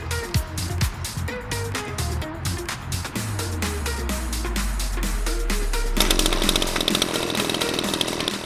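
A small two-stroke brush cutter engine running on isobutane gas, fitted to a bicycle, buzzes and revs loudly, rising to a sustained high whine with no voices.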